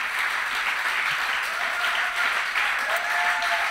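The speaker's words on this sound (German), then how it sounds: "Ihr habt euch schon warm geklatscht" Dense, steady audience applause filling a German theatre hall, many hands clapping continuously at close range with no voices over it.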